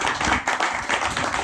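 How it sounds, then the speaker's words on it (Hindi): An audience claps together at a gathering honouring couples, a dense, close burst of applause lasting over a second with no talk. "तालियां बजा करके आशीर्वाद दीजिए।"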